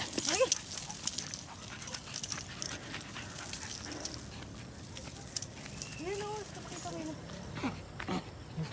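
A dog pants and whimpers close by over an outdoor hilltop background in Irisan, Baguio City, with a few short yelps and a person talking at moments.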